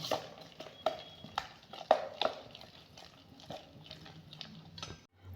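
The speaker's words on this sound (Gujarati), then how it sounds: "આ રીતે આપણે હલાવીને બેટરને મિક્સ કરી દઈશું" Rice flour dhokla batter is stirred in a metal bowl with a spoon, giving a series of clinking scrapes and knocks at an irregular rhythm, close and fairly quiet.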